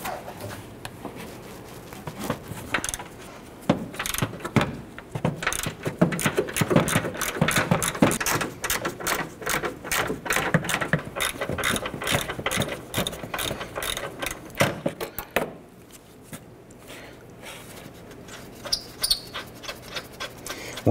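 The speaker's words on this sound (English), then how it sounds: "Let's go ahead and use our socket and ratchet." Socket and ratchet loosening the 14 mm strut nuts on a 2009-2015 Honda Pilot front strut, a long run of rapid pawl clicks in quick bursts, close and clear, fading to sparse clicks near the end.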